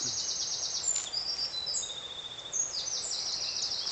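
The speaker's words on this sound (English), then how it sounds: "You can hear the wren and the chiff-chaff there." A wren and a chiffchaff singing in the distance, high trilling phrases and repeated chirps over a steady outdoor hiss.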